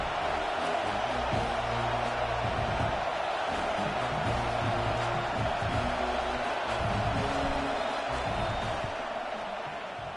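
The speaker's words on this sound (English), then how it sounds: "This crowd trying to do its part to get inside the kicker's head." Football stadium crowd in Michigan roaring as a kicker lines up a fourth-down field goal, a dense sustained wall of cheering and noise that stays loud and steady throughout, with no clear voices picked out.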